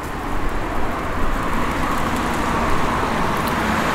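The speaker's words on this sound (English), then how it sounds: "Some medium traffic sounds." Medium road traffic sound effect from a sound library: a steady, continuous roadway wash of passing vehicles with a broad low rumble, loud and even throughout, no voices.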